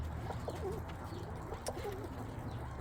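Soft, repeated cooing from pigeons of an old family line, two or three low rolling coos standing out over steady background hum and faint rustle, fairly close and moderately loud.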